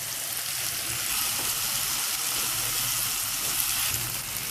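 Spice paste sizzles and fries steadily in a pan while making a lady finger (okra) fry, a continuous close crackle with faint stirring, no talking.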